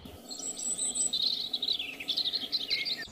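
Birds chirp and tweet continuously in a small home garden, a bright, busy chorus of overlapping calls over a steady outdoor hiss, with a faint insect buzz underneath and no talking.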